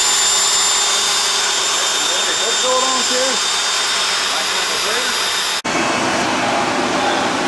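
A 388 small-block Chevy engine idles steadily at 2,000 RPM during break-in, a constant loud whirring drone with faint voices underneath and a sharp click near the end.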